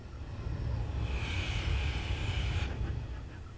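Steady rumbling drone of a train running in Train Simulator 2018 on the Chengdu to Suining route, a continuous low engine and rolling noise with a higher whine swelling in the middle, heard alone without talk.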